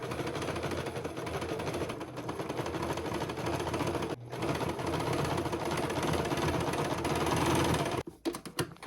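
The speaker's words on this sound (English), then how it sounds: "I sewed it like 5 times around" Sewing machine stitching the head onto a teddy bear made from old clothes, a fast steady whirring rattle running almost continuously, close up, with a brief pause midway and scattered handling clatter at the end.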